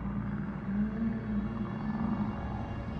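Within the submarine game Cold Waters, a steady low underwater drone carries a long, wavering tonal whale call heard continuously and fairly faint, with no voices.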